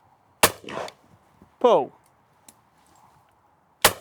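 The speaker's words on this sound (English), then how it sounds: "the first cartridge we're going to shoot is the Shooting School Stealth, made by Eley" Shotgun shots with Eley Shooting School Stealth cartridges, a sharp loud report near the start and another at the end, with a voice calling for the target between them.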